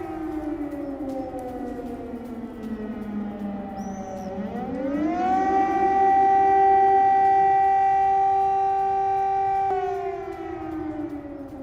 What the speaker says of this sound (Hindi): क्योंकि इजरायल के इलाज शहर में लगातार सायरन भी बज रहे हैं